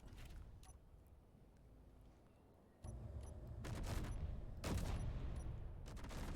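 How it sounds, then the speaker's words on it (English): Cannon fire in the video game Space Engineers, a quiet stretch giving way to bursts of rapid booming shots and rumbling impacts, faint and muffled in the mix with no speech. "You just hit me with a cannon thing?"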